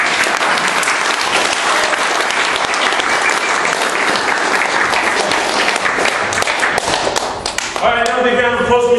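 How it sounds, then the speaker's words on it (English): Audience applause for Kevin Gillam, a loud, steady wash of clapping across the whole stretch, with a brief tonal sound entering near the end. "another big round of applause for Mr. Kevin Gillam"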